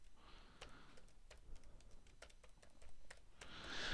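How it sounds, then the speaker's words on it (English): Someone types a password on a computer keyboard, with soft irregular key clicks scattered through a quiet room and no talking. "I need to give my password here, so I'll type this in silence."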